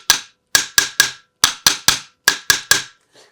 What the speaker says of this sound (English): I like to take a little brass hammer and just give them a little tap.